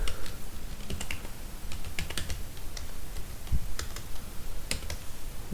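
Rapid, irregular clatter of keys on a computer keyboard as an email address is typed, close and fairly quiet with brief pauses between bursts of keystrokes, no voices.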